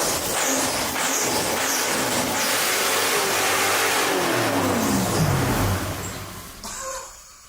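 A car engine revs hard on its own from a sticking throttle cable, its loud roar climbing steadily in pitch before falling away abruptly at the end.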